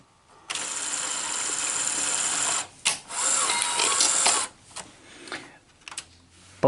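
The loading motor of a Sony SL HF300 cassette deck whirs loudly and steadily for several seconds, then cuts out into a few scattered mechanical clicks and knocks.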